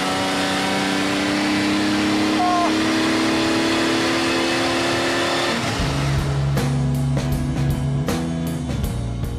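A Lamborghini Miura V12 supercar engine holds a steady loud drone, then drops and surges as it accelerates hard through the revs, close and prominent with sharp gear-change breaks.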